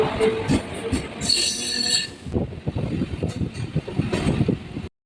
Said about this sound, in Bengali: আমাদের ট্রেন এখন ঢুকে পড়লো পুরোপুরি আলাদা লাইনে বেলুর মঠ লাইনে